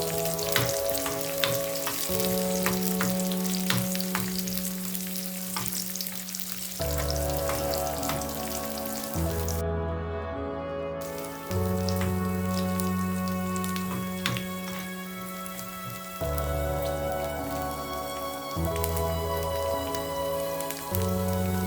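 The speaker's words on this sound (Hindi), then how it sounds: "इन सबको अच्छा सा क्रिस्पी होने तक घी में फ्राई कर लेंगे। चम्मच चलाते रहें ताकि ये जले नहीं।" Makhana (fox nuts) and cashews fry in ghee while being stirred, a steady crackling sizzle with frequent spoon clinks, joined by a fairly loud hum and tonal background sounds that shift throughout.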